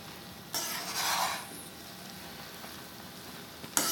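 A spoon scrapes and turns through chana yakhni rice pulao in a pot, a brief burst of stirring and clinking rising near the start, then a quieter stretch and a sharp knock at the end.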